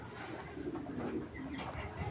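A female Napta pigeon coos in soft, low, rolling notes, faint and close, with a little background noise around it.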